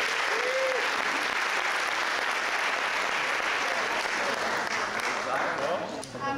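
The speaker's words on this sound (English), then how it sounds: "A big round of applause to all of our inductees." A crowd at the Coquitlam Sports Hall of Fame awards applauds inductees, a steady wash of many hands clapping, moderately distant, tapering slightly at the end.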